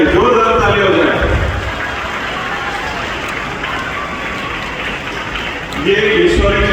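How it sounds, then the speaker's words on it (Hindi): An audience applauds at a taekwondo tournament, a dense, loud wash of clapping that holds steady throughout and swells slightly near the end, with voices mixed in. "एक बार जोरदार ताली बजाए मैडम के लिए, जोरदार ताली हो जाए।"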